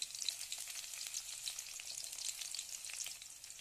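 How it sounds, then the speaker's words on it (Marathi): Crushed garlic and finely chopped green chili fry in hot oil in a wok with a bright, continuous sizzle and crackle, close and steady, with no voices. "तेल तापलं की त्यामध्ये लसूण चेचून व हिरवी मिरची बारीक चिरून तेलामध्ये टाका."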